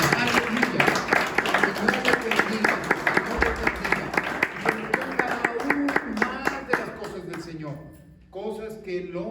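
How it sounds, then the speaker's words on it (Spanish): A church congregation claps during a Spanish-language service, with rhythmic applause running steadily under a voice and music before easing toward the end. "Dale un aplauso al Señor esta mañana"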